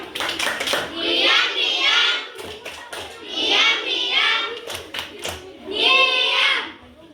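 Children in a classroom performing the 'tepuk diam' clapping routine, three bursts of chanting voices with rhythmic hand claps, separated by brief pauses and sharp individual claps, close and loud.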